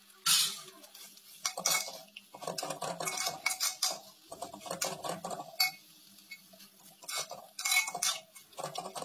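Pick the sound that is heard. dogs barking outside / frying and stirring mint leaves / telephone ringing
frying and stirring mint leaves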